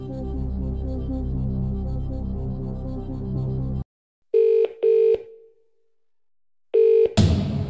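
A telephone rings in short electronic bursts, two quick rings then another after a pause, clean and loud, following a sustained musical passage in the Who Wants to Be a Millionaire DVD quiz game.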